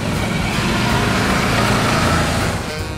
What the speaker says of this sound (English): I'm gonna take you around campus on our brand new Can-Am Defender.